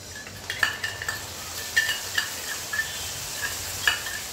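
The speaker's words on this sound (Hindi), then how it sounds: "तो हमने जो दही वाला मसाला बना है वो डाल देते हैं" Yogurt masala added to fried onions in a pan and stirred, with a bright metallic scrape of a spoon against the pan repeating irregularly over a soft, continuous sizzle.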